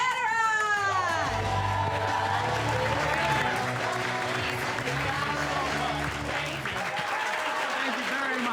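Loud crowd applause and cheering greet comedian Nick Vatterott as he takes the stage for a stand-up special, with walk-on music playing underneath throughout.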